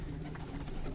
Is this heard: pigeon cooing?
yes